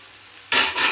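Food being stirred in a cooking pan with potatoes, a sudden loud scraping and sizzling burst starting midway and continuing to the end, alone with no talk.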